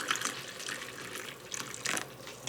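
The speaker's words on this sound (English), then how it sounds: "Coffee has been brewed, and I'm gonna pour it in my cup." Freshly brewed coffee streams from a pot into a mug already holding collagen powder in a home kitchen, a steady close liquid pour with splashy surges, no voices.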